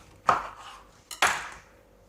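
Two sharp knife strikes against a cutting board as a lemon is chopped in half, each a crisp knock with a short ringing tail, spaced about a second apart in a quiet kitchen.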